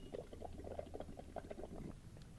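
Air is blown through a straw into a glass of water mixed with a drop or two of dish soap, making a soft, steady bubbling and gurgling that is faint and close, with no talking.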